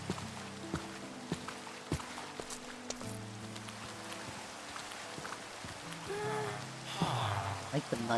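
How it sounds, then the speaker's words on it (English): Rain falling on mud in Minecraft, a steady soft patter of drops under background game music and a player talking, with occasional sharper drip sounds scattered through. "I like the mud sounds when it's raining."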